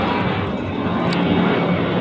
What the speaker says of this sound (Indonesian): ada pesawat lewat